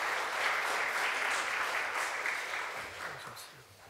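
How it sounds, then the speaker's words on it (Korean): Church congregation at a Sunday service claps to welcome a visiting grandmother, with a steady even round of applause that fades toward the end and a voice speaking faintly beneath it. "우리 박수로 환영하겠습니다"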